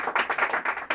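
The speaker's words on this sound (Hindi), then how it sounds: "बड़ा खुश है, ताली मार दिया" A student claps hands in a classroom, a quick run of sharp, fairly loud claps in an uneven rhythm that goes on for about a second, with no talking.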